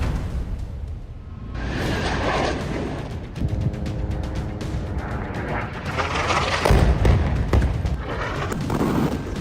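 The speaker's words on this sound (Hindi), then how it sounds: "मिसाइलें फटी और गाजा में बारूदी गर्द का बवंडर उठा।" Missile strikes in Gaza give a dense, continuous roar of booming blasts and rumbling debris, loud and sustained with heavy low thuds throughout.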